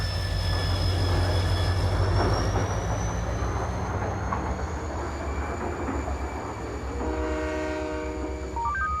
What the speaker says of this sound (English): Last train. Now departing.